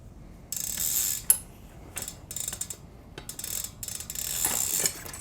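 Mechanical clicking and ratcheting from the chain tensioners of a bicycle being loosened during a flat tyre change, a few short bursts of close metallic rattling with one sharp click, no talking.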